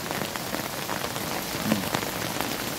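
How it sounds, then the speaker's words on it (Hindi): Heavy rain pours in a dense, steady hiss onto a waterlogged road flooded by a downpour in Ajmer, heard up close with scattered distinct drop impacts and no voices. "कब से बारिश हो रही है?"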